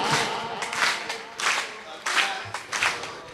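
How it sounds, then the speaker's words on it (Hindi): An audience at a gathering for a group fast and poetry meet claps in rhythmic bursts, loud and close, with voices chanting along over the hand claps. "पहले ताली बजाने का अभ्यास करो"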